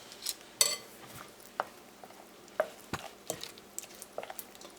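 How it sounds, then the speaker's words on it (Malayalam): Rava and oats idli batter being stirred in a bowl, a series of irregular scraping clinks and utensil taps against the vessel, moderately close with quiet gaps between strokes. "നമുക്ക് ഇത് നന്നായി ഒന്ന് മിക്സ് ചെയ്ത് കൊടുക്കുക"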